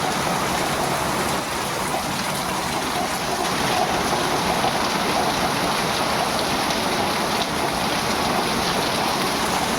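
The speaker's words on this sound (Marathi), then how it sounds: "खूप मोठा पाऊस चालू आहे विजांचा पण गडगडाट होतो आहे" Heavy rain with thunder in Kolhapur pours steadily in a dense, unbroken roar, with a low rumble underneath and no voices.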